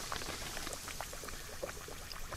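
Battered crappie fillets sizzle in hot frying oil with a steady, faint crackle and spitting pops.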